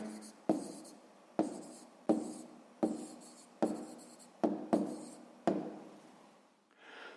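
A pen moves across paper while a 6th-grade math exercise is written out: about eight short scratching strokes, each starting with a crisp tap, close and quiet.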